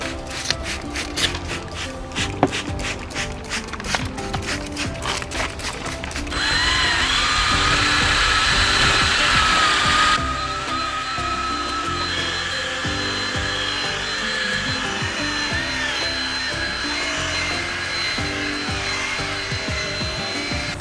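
Power sander running with 600 grit sandpaper on a Peugeot 207 1.6 HDi: a steady close whine that gets louder and brighter midway, following a stretch of rapid rhythmic pulsing, and continues for about twenty seconds without talk.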